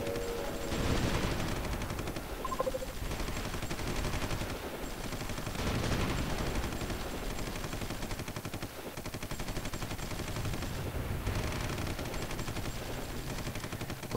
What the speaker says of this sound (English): We're being bombarded, territory lost